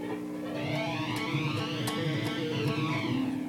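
Rapid, even electric guitar tapping runs through the first section of a song. The notes ring at a steady, close level and carry a sustained hum, with no voices.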